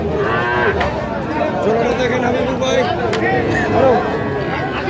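Several young bull calves moo with long, drawn-out calls over a busy crowd of murmuring voices at a cattle market in Bangladesh, close and loud.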